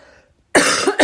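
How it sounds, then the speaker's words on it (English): A single harsh cough from a podcast speaker bursts out after near silence, close and loud, followed by a second short cough. "Sorry, I have a cough right now."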